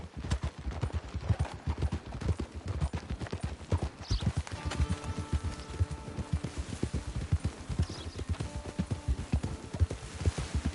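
A horse's hooves clip-clop steadily at a walking rhythm in the video game Red Dead Redemption, close and clear, with faint tonal music entering partway through.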